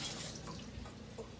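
Water runs softly from a kitchen tap for a quick rinse, a faint trickle with dripping, close by and brief.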